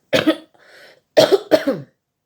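Three loud, close, rough coughs from a person with a chesty cough, the first a double burst, then a short breathy pause before two more quick harsh coughs.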